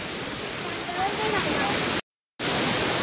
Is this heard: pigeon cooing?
no